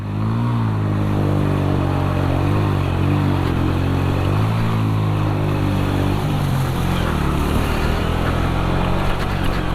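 A motorcycle engine runs steadily and loudly as the bike crosses knee-deep river water on a solo ride toward Nanga Parbat near Chilas, with churning splash and clatter mixed into the continuous drone and no voices.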